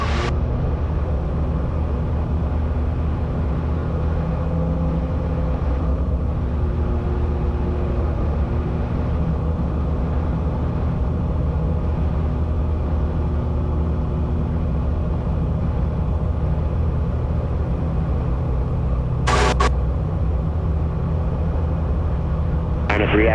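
A gyrocopter with a hotrod engine climbs after takeoff from a runway, its steady loud engine drone running unbroken throughout with a faint radio voice and a brief click near the end.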